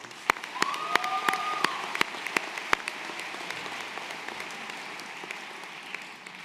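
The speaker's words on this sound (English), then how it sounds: "And let's give them an applause too" Applause at an evening spring commencement ceremony for college graduates, scattered sharp claps over a thinner crowd, with a brief whistle early on before the clapping tapers off.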